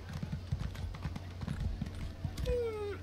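Horse hooves clip-clop in a steady gallop while riding in The Elder Scrolls Online, the thudding beats close and moderately loud, with a brief whistling tone near the end.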